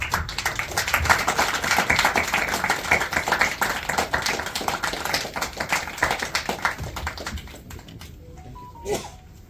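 An audience at a Kannada film team's press event for Yuddhakaanda breaks into dense, sustained clapping that thins out and fades toward the end.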